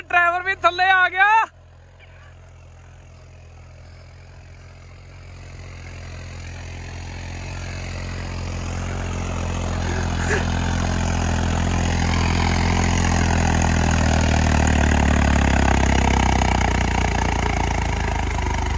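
A Deutz Fahr 70 hp tractor engine runs with a low, steady drone that slowly builds louder over the clip, after a short burst of tonal sound at the very start.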